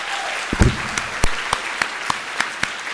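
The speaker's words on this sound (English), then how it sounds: "Let's give these folks a round of applause." A conference audience claps for the event organizers, giving sparse, scattered individual claps rather than a dense ovation: sharp separate hand claps spaced irregularly across a quiet room, moderately close.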